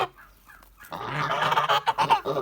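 A goose honks in a close, loud run of repeated nasal calls after a brief quieter moment.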